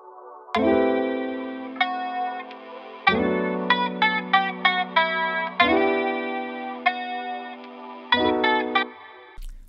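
A shimmering synth pad plays sustained chords in repeating phrases, thick with chorus and a pulsing, panning volume movement, no voices.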